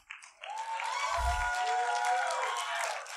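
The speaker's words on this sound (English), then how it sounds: "Will you clap?" Church congregation clapping and cheering during a sermon, a full crowd swell of applause with voices raised over it, loud and sustained after a brief start.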